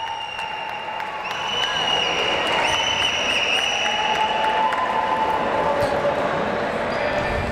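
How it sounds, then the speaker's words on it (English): Crowd applause fills an indoor basketball court at a men's African Cup game, steady clapping rising after the first second and holding throughout, with sneaker squeaks and faint voices mixed in. "Everyone's clapping for Kiza right there."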